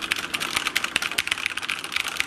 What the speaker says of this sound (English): Why do they keep showing people typing?